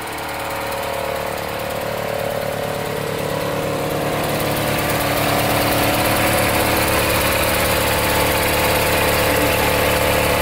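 A vintage 1980s Briggs & Stratton 5hp small engine idles steadily and loudly up close, its rapid chugging rhythm continuing without a break.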